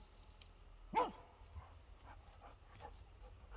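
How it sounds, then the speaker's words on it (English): A dog barks with a ball in its mouth, giving one muffled, stifled bark near the one-second mark, followed by faint snuffling in a quiet room. "He's barking with the ball in his mouth."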